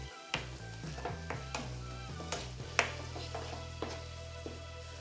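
Green chilli thokku being stirred in a pan, with soft scraping and light tapping strokes of a spoon at an unhurried rhythm over a low steady frying hum, close and fairly quiet with no talking.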